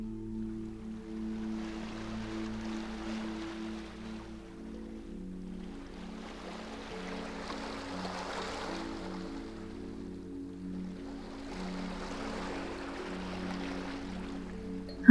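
Three slow, soft ocean waves wash in and recede one after another at an even pace, with a quiet, steady low tone underneath.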